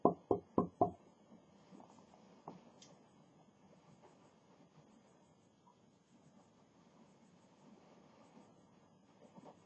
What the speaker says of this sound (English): They knock on your door.